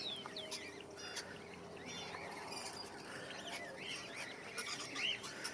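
Birds and chickens in an aviary at a bird centre in Canberra, Australia: faint chirps, tweets and clucks overlap steadily in the background, with soft ambient noise around them.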